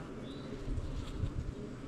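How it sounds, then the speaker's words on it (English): A dense, steady hum of many honeybees buzzing close by in a hive's honey super, a continuous low drone with slight swells, no talking. "Lots of bees up in this honey super."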